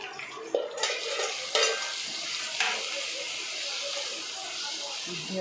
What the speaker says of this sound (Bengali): সবজিগুলো ভালো করে ভাজা ভাজা হোক